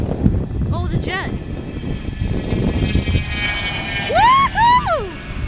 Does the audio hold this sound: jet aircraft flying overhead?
yes